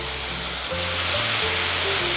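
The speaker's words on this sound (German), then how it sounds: "Die werden auch noch mal schön mit angebraten." Tomatoes and onions fry in a pan with a dense, continuous sizzle that swells slightly louder partway through, close and steady, heard alone without speech.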